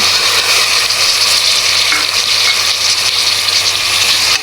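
Two medium-sized tomatoes fry in a pan for a mixed-lentil rice dish, giving a loud, steady sizzle with a few stirring scrapes, and no one talks.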